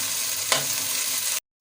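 Masala with whole spices and chopped tomatoes sizzles loudly in a pan over a high flame for a dhaba-style mash ki daal. The frying is steady and close, with one brief stir, then it cuts off sharply into silence.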